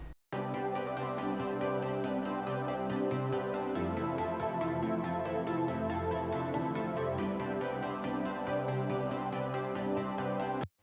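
A Serum pluck synth with full chorus plays chords in a steady rhythm of repeated notes, loud and dense with no voices.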